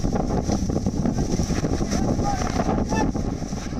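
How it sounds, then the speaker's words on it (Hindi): Strong cyclone winds and high sea waves during Cyclone Yaas on the coast of East Midnapore, West Bengal, a dense roaring rush of wind buffeting the microphone over churning water, loud and continuous. "ऊंची लहरें हैं, तेज हवाओं का शोर है"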